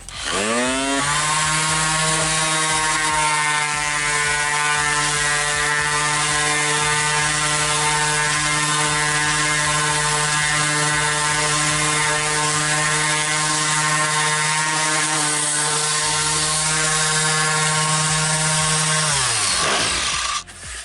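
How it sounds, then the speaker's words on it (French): A finishing sander works on wood, its motor spinning up into a steady, loud whine with a buzzing hum that holds for nearly twenty seconds before winding down. "c'est plus une ponceuse de finition"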